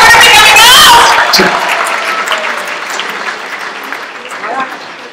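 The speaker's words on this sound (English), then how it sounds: "everybody deserves a huge round of applause tonight" Loud applause from an audience at the Femina Miss India North Zone semi-final, 2018, strongest at the start and gradually thinning out as the clapping fades over several seconds.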